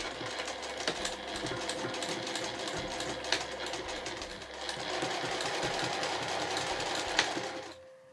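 A home sewing machine stitches layered cotton fabric for a small tissue case, its needle running in a steady, fast mechanical whir close by, holding an even pace for several seconds before stopping abruptly near the end.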